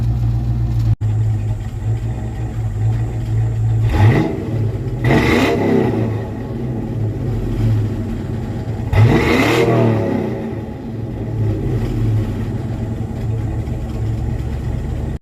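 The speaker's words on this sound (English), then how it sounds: "That clicking sound you heard on here was coming out the end of the tailpipe." Mustang exhaust with Mac Pro chamber and open, unwelded muffler section being revved near the tailpipe, steady engine drone rising in two loud rev bursts with a faint ticking clicking from the pipe end, no talking.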